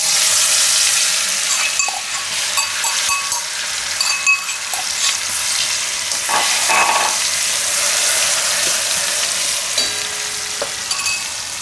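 A spice paste of chilies and garlic hits hot oil for Gujarati potato and green bean curry, giving a loud continuous sizzle with scattered crackles and stirring scrapes. No one talks.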